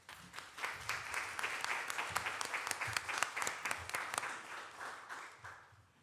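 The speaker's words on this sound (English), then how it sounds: "So let's give them a round of applause." Applause fills a city council meeting chamber: steady clapping from a modest crowd, fairly close and sustained for several seconds before thinning out, with no talk over it.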